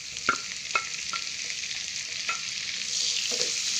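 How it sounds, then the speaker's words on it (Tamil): Chopped garlic sizzling in hot butter in a pan while being stirred, with a few sharp scraping clicks of the utensil over a steady close frying hiss, no talk. "பட்டர் நல்லா சூடாயிடுச்சு. இப்போ நம்ம வெட்டி வச்ச பூண்டை சேர்த்துக்கலாம்."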